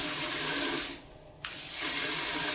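A bathroom bidet sprays a strong, hissing jet of water in a hotel room, cutting off briefly for half a second before gushing steadily again.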